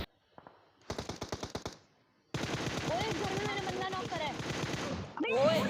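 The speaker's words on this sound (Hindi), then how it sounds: "यहाँ पे फायर चल रही होती है" Rapid automatic gunfire in a battle royale video game, with a short burst of evenly spaced shots followed by a long dense sustained volley, loud and close, with in-game voices and chatter layered over the shooting.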